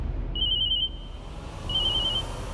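A telephone rings indoors in a home drama scene, two short electronic trilling bursts separated by a pause, clear and fairly close with no talking over it.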